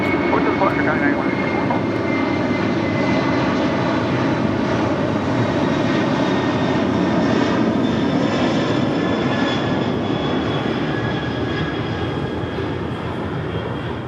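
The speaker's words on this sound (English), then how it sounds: "That was Kaletta Air Flight 9164 heading to Dover in a 747-400" A Kalitta Air Boeing 747-400 cargo jet at Los Angeles International Airport passes with a loud, continuous engine roar and whine that stays strong throughout, while people talk over the noise.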